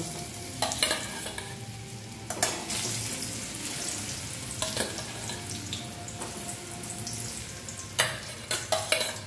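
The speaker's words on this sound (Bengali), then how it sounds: "তারপরে ওলগুলো আস্তে আস্তে দিয়ে ভেজে নেব।" Elephant foot yam pieces fry in salted oil, a soft continuous sizzle broken by several bursts of louder crackling and spattering as pieces are added and stirred.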